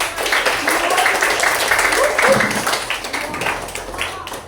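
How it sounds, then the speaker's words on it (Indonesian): A classroom of students claps together in a brief burst of applause, steady and moderately loud, with some voices mixed in. "tepuk tangan untuk semuanya"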